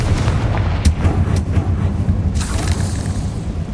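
Confringo fire spell blasting in the Hogwarts Legacy game: dense, loud booming bursts with a few sharp cracks over a constant low rumble, no voices.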